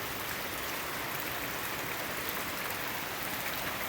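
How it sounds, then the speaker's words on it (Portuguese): Rain pours steadily at a rural smallholding, a dense, even hiss of drops with no breaks and no voices over it. "Chuva caindo, graças a Deus."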